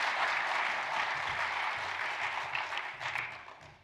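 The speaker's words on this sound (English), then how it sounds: "So let's give them a round of applause." Audience applause at a church congregational meeting, a steady wash of many hands clapping that holds evenly and then tapers off toward the end.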